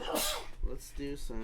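A single sharp sneeze bursts out near the start, loud and close, followed quickly by someone speaking.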